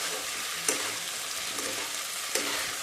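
Sabudana khichdi stir-fried in a pan: a steady broadband sizzle with two brief scraping clicks from the spatula, close and continuous, no voices.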